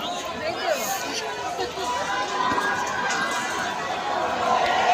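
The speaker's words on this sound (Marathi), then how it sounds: "काय गर्दी आहे आज, बिकॉज आज खूप क्राऊड आहे, खूप म्हणजे खूप" Thick crowd chatter at Nageshwar Jyotirlinga temple, many overlapping voices forming a continuous babble with footsteps and movement nearby, a closer voice occasionally standing out from the hubbub.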